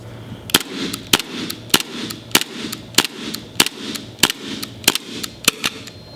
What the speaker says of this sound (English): let's start with the Novak and see how many shots we get